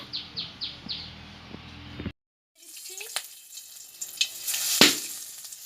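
Nigella seeds hit hot oil in a wok for a taro stolon and lentil dish, giving a steady crackling sizzle that starts after a brief silence; birds chirp faintly before it.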